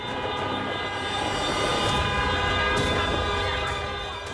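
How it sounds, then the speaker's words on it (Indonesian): Car horns honked in protest by travellers waiting at the executive pier of Merak port, Cilegon, Banten: a loud, sustained blaring wall of overlapping horn tones with constant vehicle and crowd noise. "Pemudik membunyikan klakson mobilnya sebagai tanda protes kepada petugas di Dermaga Eksekutif Pelabuhan Merak, Cilegon, Banten."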